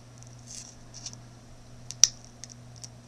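Small scissors snip out a Jamberry nail wrap like a stencil, a few faint, close clicks and snips against a quiet background with a low steady hum.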